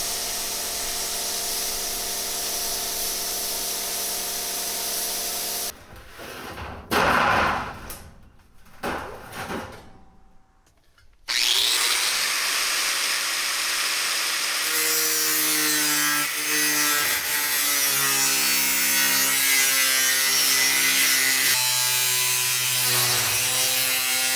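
An 18 gauge stainless steel sheet for a grill lid is cut in a workshop, with long grinding and rasping strokes, a pause with scattered scrapes, then a sustained loud cutting whine with shifting tones.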